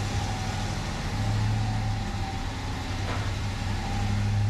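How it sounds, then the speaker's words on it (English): A Ford Lightning pickup truck with its stock exhaust and no muffler runs with a steady, moderately loud low engine drone throughout, without sharp revs. "There's no muffler on this truck. Still a stock exhaust, so it's not very loud."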